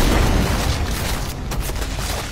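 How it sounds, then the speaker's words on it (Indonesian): A loud, booming movie-style blast for a magic bullet fired from a fingertip fills the clip with dense rumbling noise, ending in a sharp burst. "Telunjuk saktinya membuat peluru terbang dan menembakkan ke arah Choi Ji."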